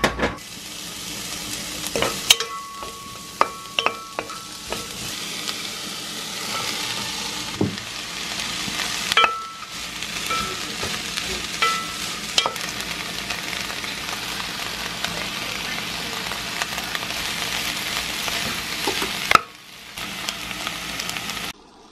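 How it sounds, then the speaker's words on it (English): Onions, fennel seeds, celery and potatoes fry in butter in a pan with a steady, close sizzle. Occasional scrapes and clatters from stirring break in now and then, and the frying goes on without pause for about twenty seconds. "Then I'm greasing the pan with a little butter and then adding the onions, fennel seeds, celery and potatoes into it."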